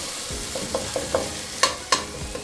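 Green chillies go into a pan of frying biryani, giving a few soft utensil taps and then two sharper sizzling bursts over a steady low frying hiss, with no talking.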